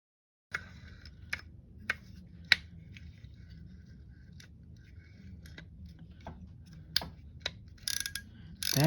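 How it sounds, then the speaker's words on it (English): Sparse clicks from the clicker on a Daiwa GS 2000 spinning fishing reel being serviced, a few isolated ticks spread across the quiet with a brief louder rattle near the end, close and fairly faint. "That's what that is. That's a clicker."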